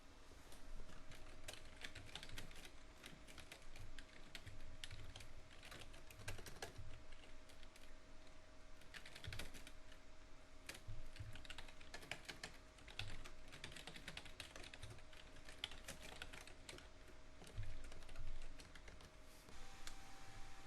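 Code being typed on a computer keyboard, a steady run of close, quick key clicks in uneven bursts over a faint constant electronic hum, with no talking.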